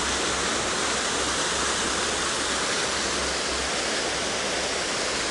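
A cleaned city fountain splashes from its central water outlet, heard close up as a steady, dense rush of falling water with no break and no voices.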